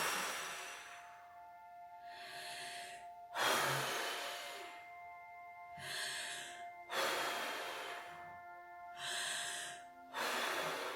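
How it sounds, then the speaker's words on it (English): Slow, deep breaths during a reiki chakra meditation, several long airy inhales and exhales in an even rhythm, close and fairly loud, with soft background music and no speech. "And breathe it out."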